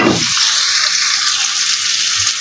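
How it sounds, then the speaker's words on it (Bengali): Chopped onions fry in a hot pan with a loud, steady sizzle that bursts up at the start and then settles into a continuous crackling hiss. "পেঁয়াজ কুচিটা আমার ভাজা ভাজা হয়ে গেছে"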